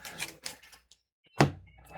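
A few sharp clicks from tactile mechanical keyboard switches, Wingtree Puer Tea or HMX Hydra, in a Neo65 Core Plus keyboard, then a pause and one louder burst of keystrokes, close and crisp.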